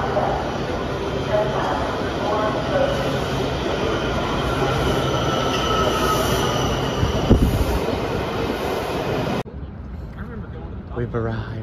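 Washington D.C. metro train running, with loud steady rumble and a long high wheel squeal through most of the stretch, ending abruptly in a quieter tail; no talk heard.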